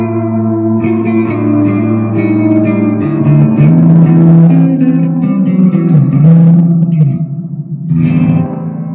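A Gibson ES-335 electric guitar on the neck pickup with all tone controls at 10 plays sustained clean chords and notes, loud and close with a reverberant, echoing tail.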